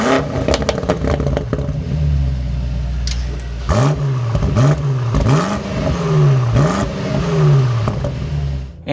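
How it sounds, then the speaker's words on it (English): A BMW M8 Competition Gran Coupe V8 idles loudly, then blips through a series of about five sharp revs that rise and fall in quick succession before it settles back to a rumbling idle. "let's fire this back up and get some revs of that V8"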